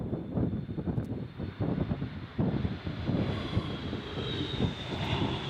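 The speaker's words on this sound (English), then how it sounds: "Those beautiful Rolls-Royce RB211 engines on that." A Boeing 757 with Rolls-Royce RB211 engines arrives at Fuerteventura Airport, its broad engine roar rumbling steadily at a distance with wind buffeting the microphone, no voices.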